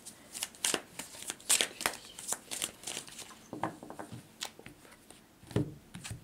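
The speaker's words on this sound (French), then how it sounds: "Allez, on va tirer les cartes." Tarot cards being shuffled and drawn by hand at close range: crisp riffling and snapping bursts in an uneven rhythm, with short pauses between flurries and no talking.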